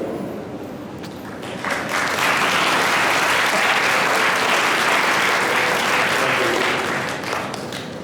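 Design-event audience at a Design in India gathering bursting into sustained applause with some cheering, swelling after a quiet start into a dense, even wash of clapping that carries on for several seconds before easing slightly.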